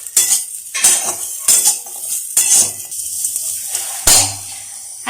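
Coconut and coriander powder being roasted in a pan, with repeated scraping and stirring strokes of a metal utensil against the pan in a steady rhythm, close and fairly loud, with no talking.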